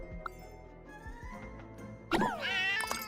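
A cat meowing in the video game Genshin Impact, a faint short mew early on followed by a louder, longer rising meow near the end over quiet background game music.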